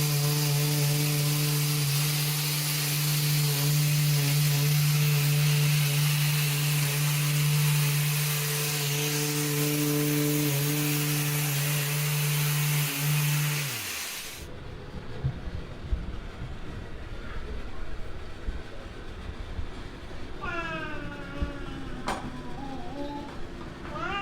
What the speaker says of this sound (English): I will probably also scuff sand the top with 320 just so it's not so shiny